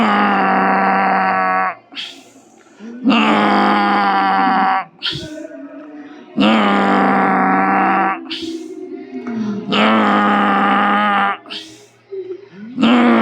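A voice imitates a small child's snoring during a yoga breathing exercise, long drawn-out rasping, groaning breaths repeated in even cycles with short gaps between them, close and loud.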